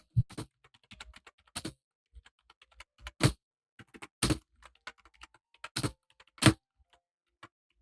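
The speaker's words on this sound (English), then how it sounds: "Maybe mute while you're typing." Fingers tap a computer keyboard in irregular, close clicks and short bursts, with a few sharper, louder key strikes spread through the stretch.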